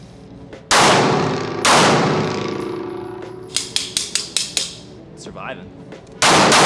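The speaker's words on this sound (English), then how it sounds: "since we're shooting the SIG 320" Sig P320 pistol, the XVTAC variant, fired outdoors: loud sharp reports with ringing decay, first two spaced shots, then a rapid string of six quick shots, a pause with a brief spoken remark, and a final loud shot.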